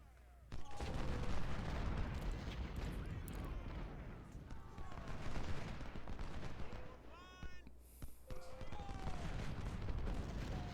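Civil War battle gunfire in the Ultimate General Civil War game at Iuka: continuous rattling musket volleys and distant booms roll on for the whole stretch, fairly loud, with a brief lull midway.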